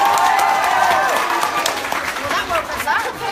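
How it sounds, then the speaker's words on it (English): An audience gives a round of applause at a community talk, with loud, sustained clapping mixed with cheering and chatter throughout. "Give yourself a round of applause."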